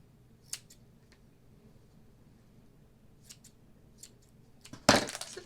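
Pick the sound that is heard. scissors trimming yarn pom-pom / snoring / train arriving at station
scissors trimming yarn pom-pom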